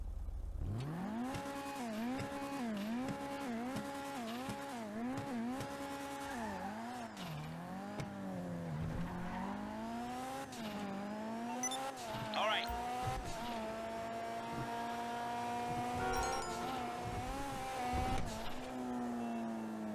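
The engine of a Karin Kuruma Armored car in GTA Online revving up and down repeatedly with rising and falling pitch and a whistling turbo note, loud and continuous.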